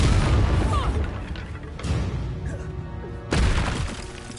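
Bombarda blasting spell explosions from the video game Hogwarts Legacy: two booming blasts with shattering crashes, one near 1.8 s and a louder one near 3.3 s, over continuous rumbling combat noise and a faint voice.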